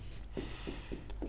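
Pen or chalk writing by hand during a math lesson, a short series of four or five scratchy strokes in a steady rhythm, close and fairly quiet over a low background hum, with no talking.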